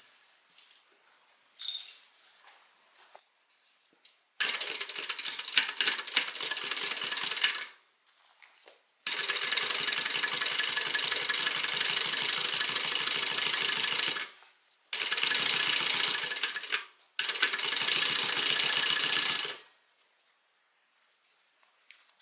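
A sewing machine stitches a seam on a Harumi bag in several bursts of rapid, even stitching. The bursts are separated by short pauses, with a few brief handling clicks before the first run.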